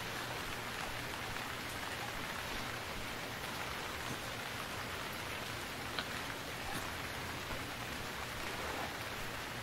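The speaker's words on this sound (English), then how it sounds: "Okay, rain, you need to let up so I can see." Steady rain falls in a video game (Stranded Deep) in a dense, even hiss that keeps going with no break.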